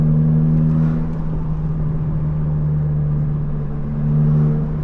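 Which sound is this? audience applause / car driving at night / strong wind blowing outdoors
car driving at night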